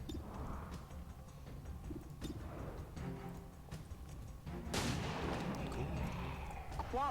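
Rifle shots in XCOM 2: War of the Chosen sound against quiet game ambience, with a few muffled shots and then a louder burst near the end.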